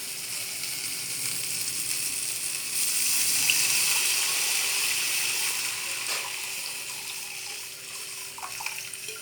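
Tamarind water poured into a pot of rasam, a soft continuous splashing pour that swells slightly midway before settling, with faint clinks of utensils.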